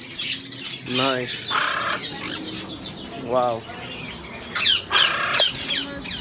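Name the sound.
newly bought pet birds squawking and chirping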